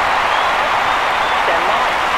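Crowd in a London 2012 video game discus throw final on PS3, broad continuous applause and roar at high level, unbroken from start to finish.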